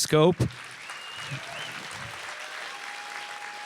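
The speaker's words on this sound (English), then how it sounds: "we should give all these founders just a huge round of applause" At a startup accelerator demo day, a short voice gives way to a steady round of audience applause for the founders, moderately loud and sustained with faint tones beneath.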